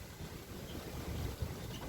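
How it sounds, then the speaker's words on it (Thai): Outdoor wind buffets a microphone with steady low rumbling gusts and a constant broadband rush, swelling slightly toward the end, with no voices. "ลมพัด"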